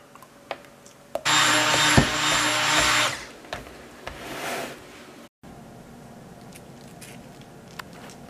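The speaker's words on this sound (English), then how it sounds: "I'm going to get this somewhat blended, and then I'll get the immersion blender back out." An electric blender runs in a kitchen, mixing food with molasses in one loud whirring burst of about two seconds, followed by quieter clinks and handling noise.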